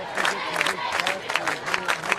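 A big crowd at a high school football game in a stadium cheers and claps in rhythmic bursts, sounding moderately distant and continuous.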